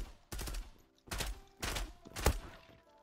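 Automatic gunfire in the online shooter game Zula: four separate bursts of rapid shots, each under half a second, with brief quiet gaps between, loud and close, no speech.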